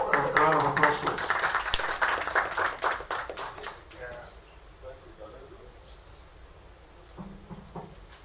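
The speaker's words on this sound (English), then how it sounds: "A round of applause, please." Audience applause at a real estate event, a burst of clapping that is dense at first, then thins out and fades over several seconds, with talk underneath.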